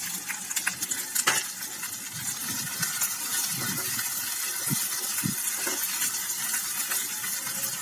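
Garlic-ginger masala with green chillies is stirred and fried in a pan, giving a steady hissing sizzle broken by occasional scrapes and soft clinks, close and moderately loud.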